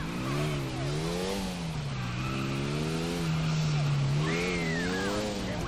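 A motorcycle engine in GTA IV, its loud whining tone rising and falling in pitch as it revs and eases off while the bike weaves through traffic.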